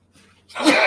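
A single sudden sneeze bursts out loud and close after a quiet, breathy lead-in, cut off within a second.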